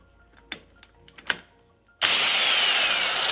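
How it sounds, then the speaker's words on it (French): A pneumatic impact wrench on a KTM/Beta engine's clutch nut bursts into a loud, steady hissing whir after a few quiet clicks and taps of handling. "je vais venir attraper ma péteuse et hop"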